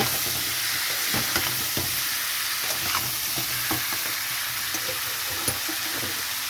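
Shrimp curry with pumpkin and potato sizzles steadily in a pan, with repeated scraping and stirring strokes over the constant frying hiss and no talk.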